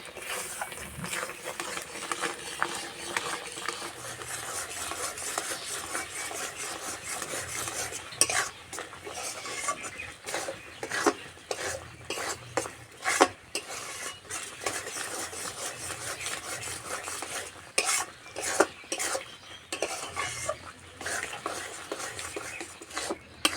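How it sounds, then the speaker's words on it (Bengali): Chhana being stirred continuously in a pan over low heat for date-palm jaggery monda, giving a steady rhythmic scraping and faint sizzle with frequent sharp ladle clicks against the pan, close and without talk. "এই সময় উনানে আস্তে আস্তে জাল দেবো আর এইভাবে নাড়তে থাকবো।"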